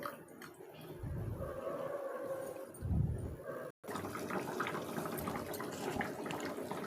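Water poured into a pan of chicken kosha curry, a couple of short splashing gushes over a steady background hiss, with a brief dropout partway through.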